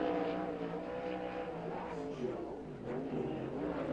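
A USAC sprint car runs a timed qualifying lap at Lawrenceburg Speedway, its engine droning and revving at a distance, rising and falling as it circles the dirt oval.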